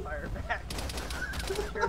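Boat-mounted gun fired by a gunner in ArmA 3, a fast string of sharp shots rattling over steady engine and water noise, with voices talking across it.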